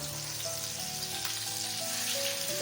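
Stuffed bitter gourds (bharli karli) fry in a pan with a steady, close sizzle and crackle that holds throughout, with faint tonal background hum and no talking.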